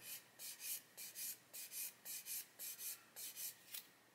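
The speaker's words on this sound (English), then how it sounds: "keep turning the barrel as you sand it" Abrasive paper rubbed back and forth on a plastic model gun barrel, a steady run of about fifteen short, soft scrubbing strokes in a quiet room, close and alone.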